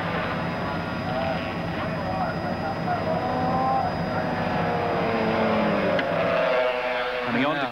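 A 1983 Yamaha 700 racing sidecar outfit with aerodynamic skirts drives down the fast Conrod Straight at Bathurst, its engine a sustained high-pitched wail that holds steady for several seconds and then shifts in pitch, with a commentator talking over it throughout.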